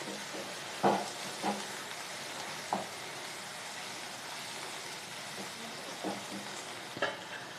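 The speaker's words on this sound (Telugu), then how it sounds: "ఉల్లిపాయ ఎగుతుంది టమాటా కూడా ఎగుతుంది" Onions and tomatoes fry in a pan for a catering-style gongura curry, a soft continuous sizzle broken by occasional spoon scrapes and taps against the pan.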